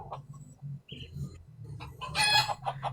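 A chicken crows in a loud, drawn-out call that stands out near the end, following quieter clucks and scattered farmyard sounds.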